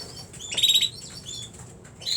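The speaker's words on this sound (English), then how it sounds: "And also there's a bird." A bird flutters its wings in a brief burst close by and gives a few thin, high chirps, alone against a quiet background.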